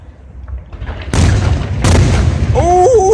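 Fireworks bursting over a baseball game, two sharp loud booms about a second apart rolling into echoing rumble, with a voice exclaiming near the end.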